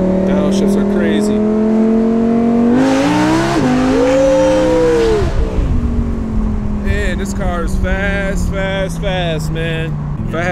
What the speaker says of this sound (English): Hear that? Downshifts are crazy.